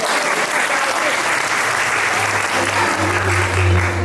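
Audience applause for a student at an apprentices' exhibition: a steady wash of clapping from a gathered crowd, fairly loud and continuous, with a low hum or voice-like tone rising underneath in the second half.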